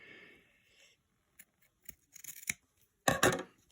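Scissors snipping excess fabric while altering a top to add a side slit, a few short crisp cuts close by, the last pair of snips loudest, with quiet gaps between.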